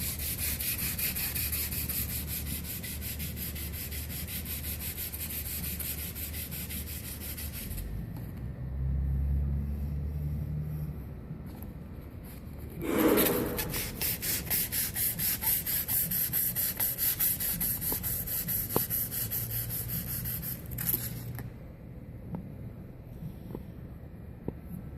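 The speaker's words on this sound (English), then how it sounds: "Use my portable lathe." Portable lathe spinning to clean up a billiard cue tip, a steady close whirring rub with a louder burst of sanding contact midway, running alone without talk.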